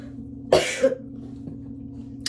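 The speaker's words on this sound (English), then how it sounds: "If I cough and sniffle here and there" A single close cough, short and breathy, followed by a quieter second burst over a faint steady hum.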